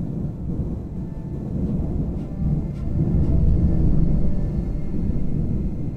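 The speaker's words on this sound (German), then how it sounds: "Das war mal ein Donner." Deep, rolling thunder from the game Rome Total War II, a broad low rumble that swells louder toward the middle and stays heavy to the end, with no talk over it.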